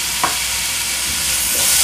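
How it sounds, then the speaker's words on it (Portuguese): Garlic browning in a pan gives a steady frying sizzle with a brief clink of a utensil early on, close and moderately loud, with no talking. "aqui eu já coloquei o alho para ir dourando"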